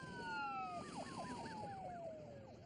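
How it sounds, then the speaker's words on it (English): A wailing emergency siren, steady tones giving way to rapid rising-and-falling yelp cycles that pass close and then fade slightly as it moves off. "No, it's the siren!"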